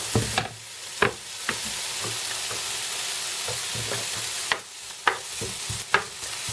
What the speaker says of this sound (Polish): najpierw smażymy bocze, ponieważ on musi się najdłużej topić, czy smażyć